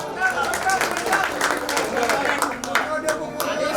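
At a reunion gathering of Bhiwandi bus depot staff, scattered hand claps from a crowd ring out amid voices talking over them, uneven and moderately loud.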